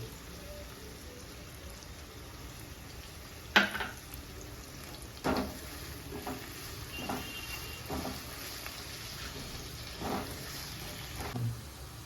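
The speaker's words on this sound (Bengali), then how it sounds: "পেঁয়াজটা ভাজা হয়ে গেছে" Onions with a pinch of sugar fry in a pan for a yogurt chicken curry, a quiet low sizzle broken by occasional sharp clicks of stirring.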